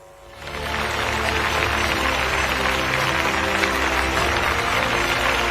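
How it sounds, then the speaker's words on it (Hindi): Sustained applause from a large crowd at a public rally with the chief minister, swelling in after a quiet start into a steady, dense wash of clapping that holds to the end. "तालियां हम सभी की जोरदार होना चाहिए"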